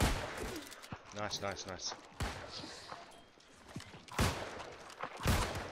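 Musket shots from the online game New World crack out in a few sharp, loud bursts spread across a team skirmish, with players talking between and over the shots.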